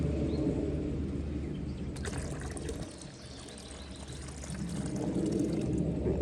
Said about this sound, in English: I'll put more water